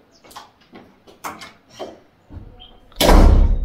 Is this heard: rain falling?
no